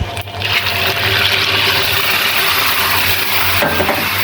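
Milk is poured into a frying pan of fried eggs with garlic, ginger and onion paste and turmeric for egg korma. The pour makes a loud, continuous rushing splash from start to finish.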